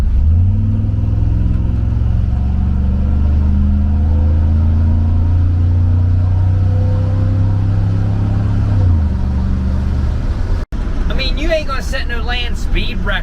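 An old carbureted pickup truck accelerates from about 30 mph, its engine droning loud and steady as the pitch holds and then drops near the end, with a brief clunk before the engine picks up again.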